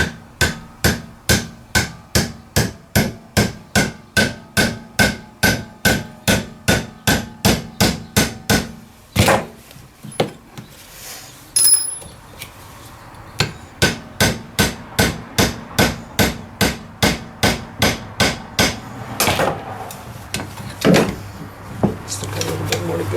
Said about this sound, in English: Hammer this thing in.